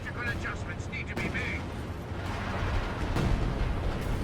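Sturmovik air attack striking vehicles in the video game Company of Heroes 2, a rumbling mass of explosions and bursts rolling continuously, with higher whistles and crackles mixed in.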